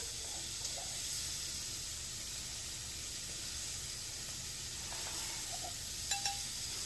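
Small shrimp cook in a hot pan with a steady, fairly quiet sizzling hiss that carries on evenly, with only a faint tap or two near the end.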